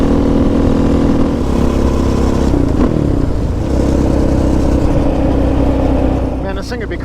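A Raptor 700 ATV engine running on pavement, a loud close engine drone that holds steady with slight surges in revs, a voice talking over it for much of the time.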